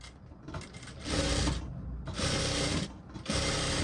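Sewing machine stitching a belted princess-cut blouse, running in three loud bursts of rapid mechanical whirring separated by short pauses, close up with no voices.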